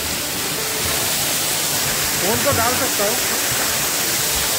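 Jirikinding waterfall in a jungle pouring heavily over a cave, a loud steady broadband roar of falling water that runs throughout, with someone talking over it midway.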